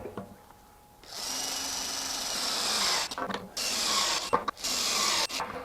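Milwaukee or Ridgid stubby impact wrench hammering as it torques fasteners toward 350–400 foot-pounds, a loud, sustained rattling burst of about two seconds followed by several short choppy bursts with brief gaps, no talking.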